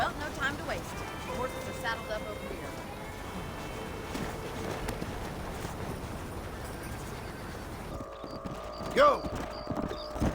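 Horse hooves clip-clop steadily while riding through a town by day in the mobile Red Dead Redemption game, with someone talking over the continuous rhythmic hoofbeats and a brief whinny-like sound near the end.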